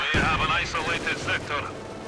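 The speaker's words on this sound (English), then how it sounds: "New battalion here stopped by the MG42. Coming under fire from nearby Grenadiers." Battlefield gunfire from the Company of Heroes 2 real-time strategy game, with rifle grenade and machine gun fire, comes as a dense run of sharp bursts and booms, and voice-like sounds may be mixed in.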